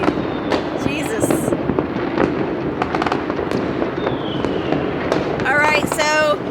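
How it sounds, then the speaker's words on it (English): Fireworks bursting over Tirana, Albania on New Year's Eve, a dense continuous barrage of cracks and booms near and far, with crowd voices and cheering mixed in. "You got nothing on Albania fireworks on New Year's Eve."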